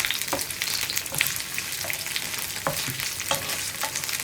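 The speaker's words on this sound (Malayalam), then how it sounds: "ഇനി ഈ മുന്തിരി ഒന്ന് ഫ്രൈ ചെയ്തെടുക്കുക." Raisins frying in hot oil give a crackling sizzle, punctuated by several distinct clinks and scrapes as a spoon stirs the pan, close and fairly loud, with no voices.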